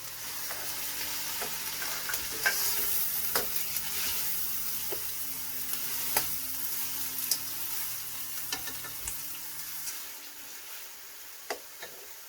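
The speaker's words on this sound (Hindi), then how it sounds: "ऑयल गर्म हो गया, अब हम इसमें गाजरें डालेंगे और थोड़ी सी भून लेंगे।" Grated carrots frying in hot oil for sweet jaggery rice give a soft, steady sizzle close by, with scattered clicks and taps of a spoon against the pan, fading quieter near the end.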